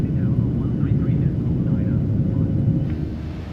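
PMDG 737 jet climbing out in Microsoft Flight Simulator on a Sydney departure, a steady broad engine roar that stays loud throughout and eases slightly at the end, with a voice talking over it.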